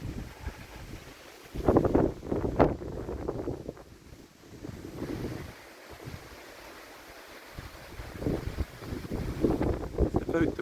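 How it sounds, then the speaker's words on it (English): Gusty wind blowing outdoors on a bright October day, buffeting the microphone in low rumbling bursts that rise and fall irregularly and come close and loud throughout. "A little windy, like I say, and you can probably hear it."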